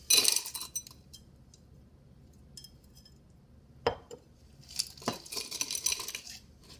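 A drinking glass for a mocktail being handled and set down on a counter, with a few sharp clinks and knocks scattered between quiet pauses, close by.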